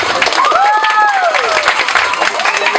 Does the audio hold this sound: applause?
yes